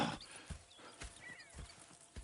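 Slow, evenly spaced hoof clops of a walking horse in Red Dead Redemption 2, fairly quiet, with soft chirping and ambient outdoor noise in between.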